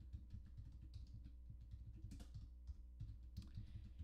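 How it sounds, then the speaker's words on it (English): A computer keyboard clatters with quick, irregular keystrokes at close range, a continuous run of typing broken only by tiny pauses, with no talk. "let's type in the task name"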